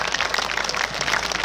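Applause from an audience at an Indonesian NU devotional singing gathering, a dense, steady patter of clapping, brief and continuous with no clear voices.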